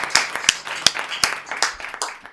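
An audience at a poetry recital claps to welcome a poet, a short burst of close, loud, irregular hand claps lasting a couple of seconds.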